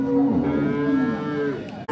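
An angry calf moos at a cattle fair in Venturosa, Pernambuco, giving one long, loud, close bellow that fills nearly two seconds.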